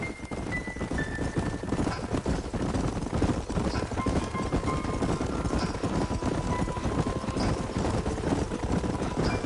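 Horse hooves clip-clop at a steady walking rhythm in the Western video game Red Dead Redemption, set in New Austin, carrying on continuously at moderate loudness under ambient game sound with a faint background hum.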